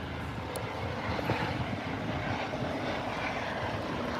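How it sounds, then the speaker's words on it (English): Massachusetts State Police helicopter flying overhead, a steady loud rotor and engine roar that holds constant throughout, with no talking. "I got a helicopter. State Police."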